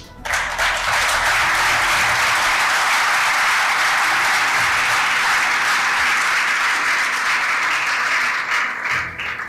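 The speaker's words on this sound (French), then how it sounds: "je souhaite que vous puissiez vous applaudir" Sustained applause from an audience in a conference hall fills nearly ten seconds, a dense wash of many hands at even loudness that tapers slightly at the very end.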